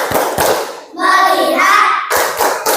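A class of fourth-grade children performs the 'tepuk fokus' clap chant, sharp, loud claps in a rhythmic pattern, broken by a short burst of children's voices chanting in the middle.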